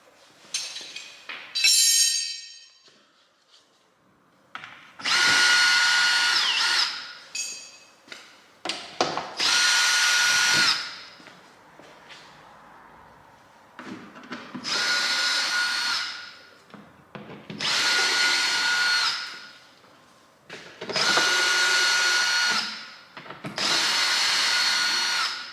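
Power tool working loose the ball joint nut on a Mercedes: several loud, close bursts of whirring and rattling, each lasting a few seconds and separated by short quiet pauses.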